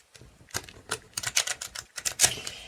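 Oracle cards being shuffled by hand, a rapid run of crisp, close clicking riffles and flicks with uneven rhythm, no talking over it.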